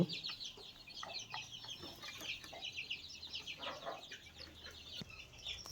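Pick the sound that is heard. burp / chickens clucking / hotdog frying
chickens clucking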